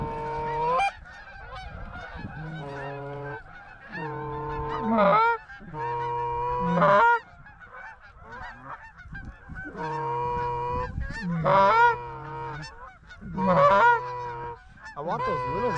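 Geese honk repeatedly in a field during a goose hunt, calling in loud, overlapping bursts that come and go in waves across the whole stretch, close and clear with no talking.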